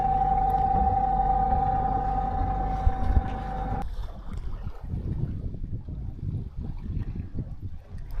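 Sailboat on an overnight lake passage toward Chicago: a steady engine hum ends abruptly as the motor is killed, leaving soft water lapping, creaks and wind noise as the boat sails with the jib up.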